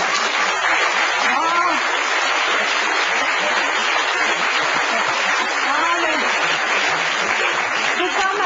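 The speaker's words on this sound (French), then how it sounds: "Faut pas m'applaudir, j'ai aucun mérite à imiter si bien Carla Bruni" A steady wash of audience applause fills the room at a French stand-up comedy show, with a voice speaking faintly over the continuous clapping.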